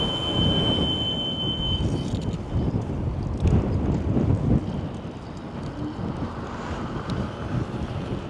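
Heavy headwind buffeting the microphone while riding an Ausom DT2 Pro electric scooter on low battery, a loud continuous low rumble with gusty surges throughout and no talking.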